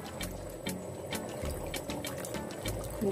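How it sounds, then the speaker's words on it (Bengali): Vinegar is poured into a tomato pickle, a soft, uneven liquid trickle with faint splashy bursts, heard close and quiet with nobody speaking. "এবার দিয়ে দিব 1/2 কাপ পরিমাণ সিরকা বা ভিনেগার"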